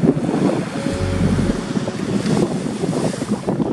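Strong offshore wind gusts blowing from behind at a surf point, roaring against the microphone over the sound of the sea, continuous and loud.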